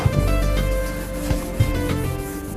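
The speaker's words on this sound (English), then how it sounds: "Now to finish off on this roundover with Scotch-Brite." A Scotch-Brite pad rubbed along the roundover edge of a Wilsonart Earthstone inset kitchen sink gives a steady, close abrasive scuffing with a few soft knocks, unbroken throughout.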